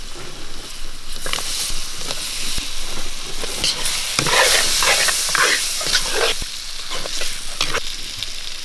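Chilli powder, turmeric and potato stirred into a hot frying pan for a Kerala-style soya chunk curry, a loud continuous sizzle with repeated scraping strokes of a spoon, no talking.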